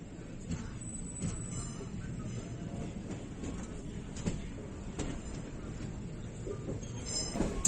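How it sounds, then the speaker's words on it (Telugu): A passenger train rolls slowly into Kazipet station, its steady low rumble and wheel noise continuous and close throughout, with faint metallic squeals and clanks rising at moments. "సో ట్రైన్ అయితే చాలా స్లోగా అయితే వెళ్తుంది స్టేషన్లకి"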